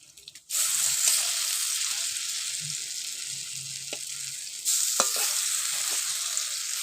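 Small lentil fritters sizzle loudly in hot oil, a dense continuous hiss, while a metal spatula presses and turns them with occasional soft scrapes and knocks, the frying surging louder near the end.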